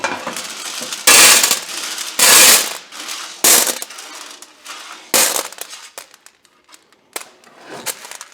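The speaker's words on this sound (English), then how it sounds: "I'm just going to rake these off in a pan" Dirt, rust and loose parts from a New Idea Vari Speed are raked off into a pan in loud, uneven bursts of scraping and clattering, separated by quieter pauses.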